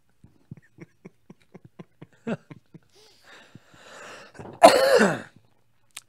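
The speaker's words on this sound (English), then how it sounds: "I got a little toad in my throat, so I'm gonna cough a couple times" A man clears his throat with a run of small, sharp rasps, then lets out a louder, harsher cough burst near the end, close and alone against silence.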